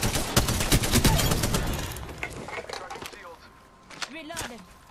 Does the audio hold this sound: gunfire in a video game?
yes